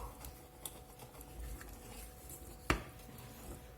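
Lardons stirred together with onions and peas in a pan, a soft continuous scraping and squishing with light clinks and one sharp knock of the utensil against the pan near the end, close up and alone.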